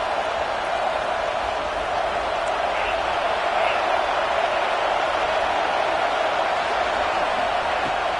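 A large stadium crowd at a Washington versus UCLA college football game roars in a steady, sustained wash of noise, heard under a play-by-play commentator's voice.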